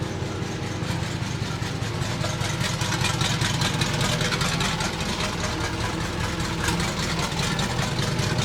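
A twin turbo DeLorean engine runs steadily at idle, a continuous loud mechanical drone with a slightly rough, pulsing texture throughout and no voices.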